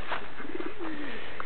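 Pigeon-like cooing from birds kept in newly built pens at a bird farm, a short soft call heard close with no other sounds.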